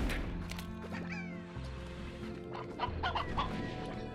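Cartoonish chickens cluck in the video game Slime Rancher, with short repeated clucks and squawks scattered over game music and ambient sound effects, moderately loud throughout.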